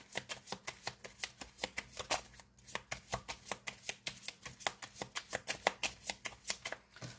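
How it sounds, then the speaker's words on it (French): Lenormand oracle cards shuffled by hand, a rapid, even run of crisp riffling snaps repeating nearly twice a second, close and clear with no talk. "On va tirer 3 cartes avec le normand."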